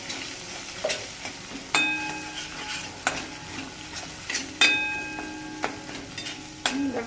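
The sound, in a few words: stirring coriander powder into frying drumstick masala in pan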